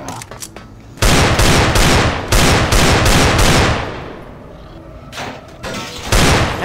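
Bursts of automatic gunfire from Left 4 Dead 2, loud and close, come in several dense volleys separated by short pauses, fading to a low rumble before a final pair of bursts.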